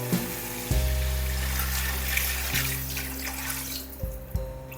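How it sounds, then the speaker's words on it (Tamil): Water being poured into a pan of cooking chicken for seeraga samba chicken biryani makes a continuous splashing, running pour over a faint sizzle, close and fairly steady, with a few knocks from the vessel and no voices. "இந்த சிக்கன் வேகிறதுக்கு தேவையான அளவு தண்ணி ஊற்றிக்கலாங்க."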